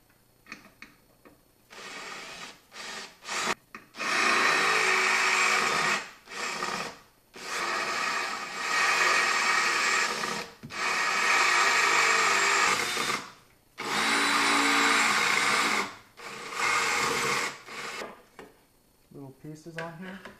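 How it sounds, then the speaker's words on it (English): A power drill drills out rivets on a car's suspension bracket, with loud whining bursts of several seconds each, separated by brief pauses and stops, close to the listener. "you'll need to drill this out, this, and up here you'll need to drill this out as well"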